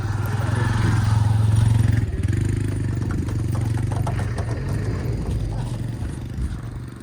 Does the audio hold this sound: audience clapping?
no